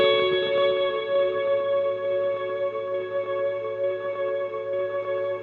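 A held guitar note rings through a multi-head delay and echo effects unit, stacking into dense sustained harmonics with a wobbling, repeating shimmer that carries on steadily for several seconds, with no talk.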